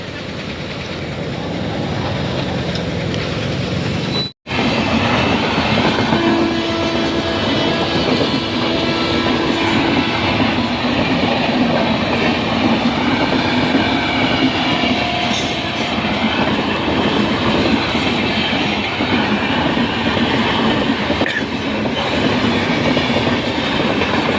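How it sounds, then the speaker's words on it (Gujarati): A train rumbles past close by at a closed level crossing amid a traffic jam, loud and continuous, its wheels clattering over the rails with a low heavy drone throughout. "ટ્રેનનો ફાટક બંધ છે ટ્રેન આવી રહી છે"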